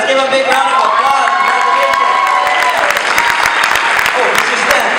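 Loud, dense applause from a large crowd at a regional event in Hawaii, with a few cheers and shouts mixed in, steady throughout.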